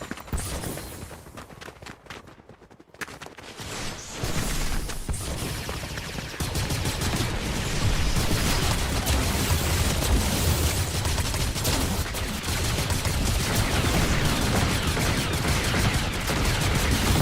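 Gunfire from a favoured gun in a Star Wars shooter game, loud continuous bursts of rapid shots that start after a brief quiet gap and keep up densely to the end.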